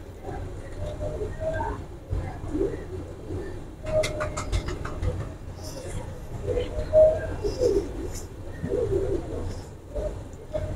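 Soft pigeon coos in a loft of golden pigeons, repeated in low murmurs against a steady background rumble and some faint chirping, with scattered voices nearby.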